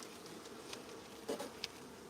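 Honey bees buzz quietly around an open hive, a soft continuous drone with a few brief closer flybys, and nobody talks.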